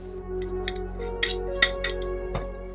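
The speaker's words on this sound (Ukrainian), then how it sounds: "І ще раз перемішую." A spoon stirs a zucchini mixture with salt, chopped garlic and grated cheese in a bowl, giving close, irregular metallic clinks and scrapes, about a dozen light taps over a low steady hum.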